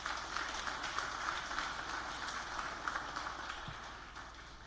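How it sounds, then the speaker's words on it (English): Audience at an economics forum giving a round of applause, steady dense clapping from a crowd, moderately distant and sustained before tapering slightly. "you guys deserve a wonderful round of applause"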